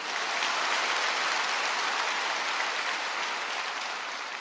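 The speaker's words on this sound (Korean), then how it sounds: "우리 여자들 위해서 박수 좀 쳐주세요." A church congregation at a Friday evening service claps together in a dense, even, hissing wash of applause. It holds steady throughout and tapers slightly toward the end.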